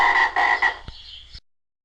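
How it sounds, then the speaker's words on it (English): Frogs croak loudly and close, a rapid run of raspy pulsing calls over about a second, then a thinner trailing croak before cutting off into silence. "Then from a distance, loud croaks would unfurl."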